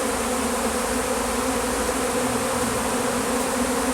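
A swarming colony of honey bees, with the old queen and half the colony gathering in a tree, hums as a dense, continuous buzz, loud and close, with no voices.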